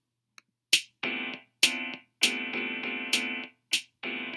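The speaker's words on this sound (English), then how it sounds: "Sorry, a piano, that's a piano." Bright synthesized piano notes from Chrome Music Lab play a short, spaced melody, each note struck cleanly and decaying, with brief silences between them; no voices.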